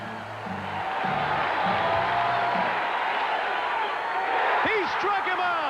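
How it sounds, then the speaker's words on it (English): Fenway Park baseball crowd on its feet, a loud sustained roar of cheering and whooping that swells steadily, with a commentator's voice over the start. "The Fenway crowd on its feet."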